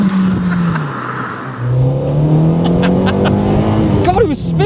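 A road rally spec Nissan Micra K11 engine revs hard and drones steadily as the wheels spin in second gear, with a brief tire chirp near the end and a rising whine.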